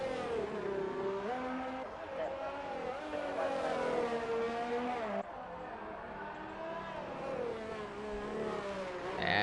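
Ferrari Formula car engine in a racing video game at Monaco, a loud high-pitched whine that rises and falls through gear changes, with a brief shift break midway.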